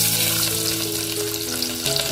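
Garlic dropped into hot oil with whole spices for a mutton dish gives a loud, continuous, close sizzle and crackle that holds steady throughout.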